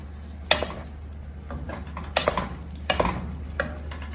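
Aloo posto, Bengali potatoes in poppy-seed paste, is stirred in a pan over a high flame. A spoon scrapes and clinks against the pan in a few distinct strokes over a steady low hum of heat.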